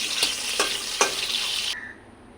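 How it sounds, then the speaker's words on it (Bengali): Raw plantain frying in oil in a kadai, a bright steady sizzle broken by a few stirring clacks, then cutting off abruptly. "এবার আমি কড়াই দিয়ে দিয়েছি কাঁচকলাটা ভেজে এরপরে ভাজবো আমি বেগুন"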